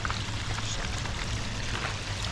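Water gushes steadily from a pond pump outlet, an even, continuous rushing splash close by with no pauses and no voices.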